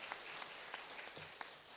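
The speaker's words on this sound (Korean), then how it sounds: "박수로 한번 환영합시다." Church congregation at a Sunday morning service applauding to welcome a guest, a faint, distant patter of clapping with a few distinct claps standing out.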